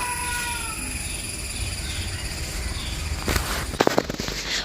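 A kitten cries in a home backyard where chickens are kept. The thin meows come early and sit over a constant noisy background, and sharp crackling bursts follow near the end.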